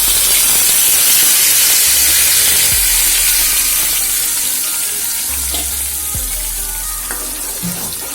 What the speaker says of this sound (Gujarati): ત્યારબાદ એમાં નાખીશું આપણે ટોમેટો પ્યુરી।